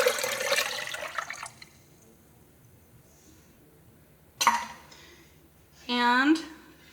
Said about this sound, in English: So we're just going to pour those all together.